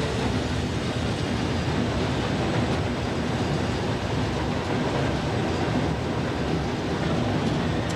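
Class 47 diesel locomotive running on rails near Stockport, heard from inside the cab as a steady, loud rumble and rolling wheel noise throughout, with no voices.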